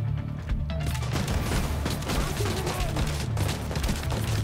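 Continuous gunfire and explosions from a firefight in the video game The Division 2, loud and dense with rapid shots and booms layered together.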